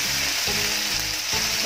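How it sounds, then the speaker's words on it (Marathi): Ginger garlic paste sizzles steadily in a frying pan with onion, turmeric, asafoetida and ground coriander-cumin for stuffed capsicum, a loud continuous hiss broken by a few soft stirring scrapes, close and alone with no voices. "आलं लसणाची पेस्ट टाकूया,"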